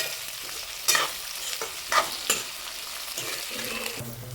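Green onions sizzle in a hot pan of tempering for desi kadhi, with close, sharp scrapes and clanks of stirring over a continuous frying hiss.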